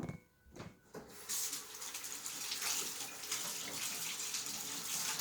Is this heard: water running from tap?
yes